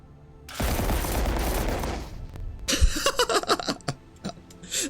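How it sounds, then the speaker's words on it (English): Cannons firing in the game Lost Skies, a dense roaring barrage followed by a rapid string of sharp booming shots, close and loud. "see the cannon shots from the air"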